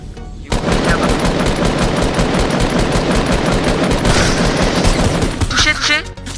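Video game gunfire: sustained rapid automatic bursts rattling loudly and continuously for several seconds, with a player's voice talking over it.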